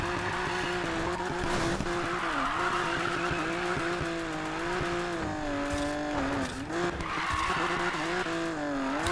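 A car drifts in Need for Speed Payback, its tires screeching in a long continuous skid over a wailing, revving engine, loud and close throughout, with no talking.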